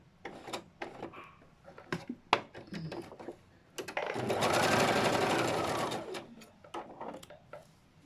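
Electric sewing machine stitching the sides and neck of a garment: a sustained whirring run of stitching in the middle, framed by short clicks and taps of handling the fabric and machine.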